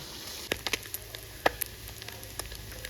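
Food frying in a pan in small batches, making a constant soft sizzling hiss broken by a few light pops and crackles.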